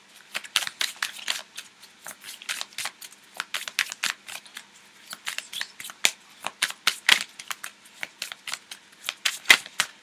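Tarot or oracle cards being shuffled for a love reading, rapid crisp riffling and slapping bursts repeating in an irregular rhythm, close and clear with no talk.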